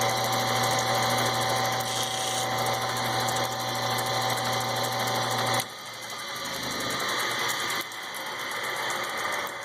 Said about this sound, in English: A couple of the nodules here, and we're just going to grind away some of the surface.